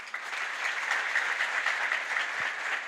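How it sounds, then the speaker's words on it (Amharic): An audience at a sales training session claps in a steady, even wash of mid-level applause that continues without a break, and no one speaks over it. "አጨብጭቡላችሁ በደንብ"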